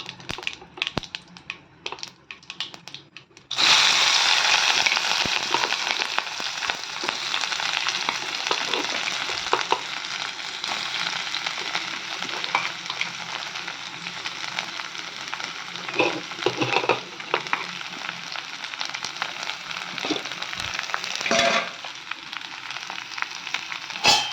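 Capsicum curry fries and is stirred in a pan: a steady, loud sizzle starts abruptly after a few quiet seconds and runs continuously, broken by scraping stirs near the end.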